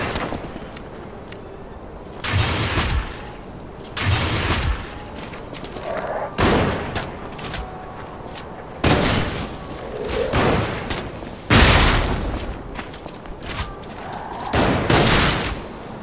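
Gunfire from a weapon in Lies of P: about seven loud, booming bursts spaced a second or two apart, each a broad blast with a short rumbling decay over quieter ambience.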